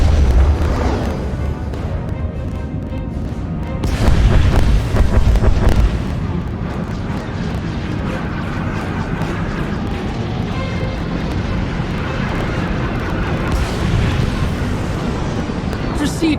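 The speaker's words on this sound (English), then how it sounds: "Proceeding with bombardment." Deep rumbling booms from a space bombardment in the SWTOR Sith Warrior story, a continuous heavy roar with stronger swells, under a voice speaking over it.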